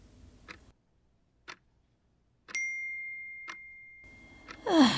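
A phone alert goes off in a quiet room: a few soft ticks, then a clear, steady electronic tone that holds for a couple of seconds before fading, followed by a breathy vocal sound at the end.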